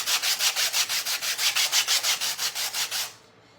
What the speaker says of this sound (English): we're gonna use our sander here. On one of them, we're just going to sand the canvas down